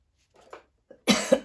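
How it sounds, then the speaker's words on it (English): Dry coughing, close and alone: a couple of faint short hacks, then a louder burst of harsher coughs. "I've still got a bit of a dry cough."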